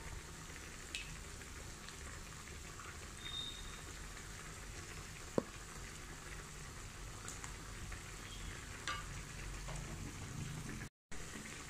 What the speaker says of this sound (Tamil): கட்டி பிடிக்காமல் கிளறி கொடுத்துட்டே இருக்கணும்